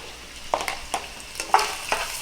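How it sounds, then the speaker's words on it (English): Chopped pancetta sizzles in a frying pan over low heat while being stirred, a steady close crackle broken by light scraping taps of the spoon against the pan, with no talking. "give this a nice little stir"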